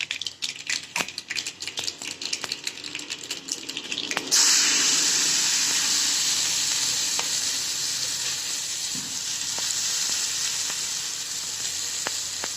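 Onions dropped into hot oil tempered with crackling mustard seeds, first a run of sharp pops and crackles, then a sudden loud hiss that settles into a steady sizzle with occasional stirring clicks, close and without speech.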